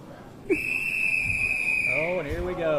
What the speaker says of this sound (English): Everybody knows that whistle.